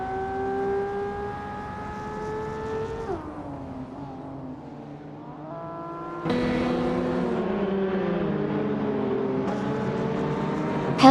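Racing video game with 1988 Porsche 944 Turbo S and other Porsche 944 Turbo race cars, engines droning and shifting pitch, dipping as one car lifts off, then a louder, denser roar as several cars rev together.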